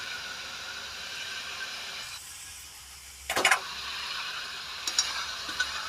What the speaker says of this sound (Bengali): চাউলটা আমি ভেজে নেব মশলার সঙ্গে